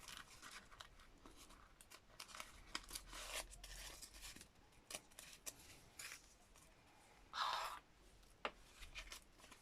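Paper torn from a junk journal page in a craft session, several short dry rips and crinkles close up, with a sharper louder tear near the end.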